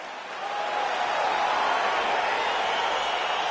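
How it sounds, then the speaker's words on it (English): A UFC arena crowd roars steadily as a fight gets underway, a dense, continuous wash of cheering that swells slightly after the first half second and then holds loud. "crowd getting excited as this fight gets underway"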